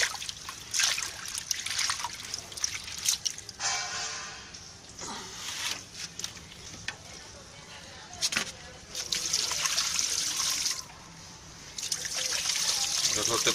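Water trickling and splashing while herbal mixture is rinsed and the dirty washing water is changed in a home kitchen, steady running liquid with irregular bursts, close by, a voice talking over parts of it.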